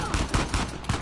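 Gunfire during an ambush in Uncharted: The Lost Legacy, four sharp, close shots spaced irregularly over about a second, loud and punchy.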